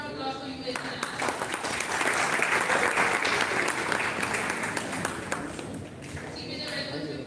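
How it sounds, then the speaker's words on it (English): An audience at a college event gives a round of applause to welcome guests, dense clapping swelling and holding loud before easing slightly, with voices faintly mixed in. "Everyone give a big round of applause for UAS International."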